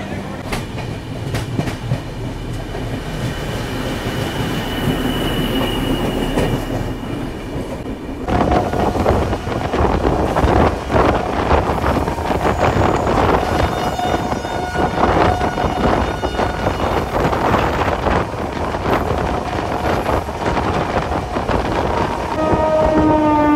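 The Barbil Jan Shatabdi Express rumbles loudly through Santragachi station, its wheels clattering steadily. A horn or siren-like tone sounds partway through as the noise swells.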